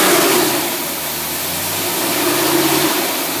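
A car engine revs on a dyno under acceleration, a loud, steady mid-pitched drone with a slight swell and dip in pitch, close and alone without talk.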